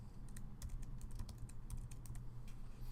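Quick bursts of keystrokes on a computer keyboard as a new folder name is entered in Google Drive, a steady close patter of clicks in short runs over a faint room hum, with no talking.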